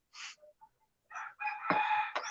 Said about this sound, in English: You can hear the roosters.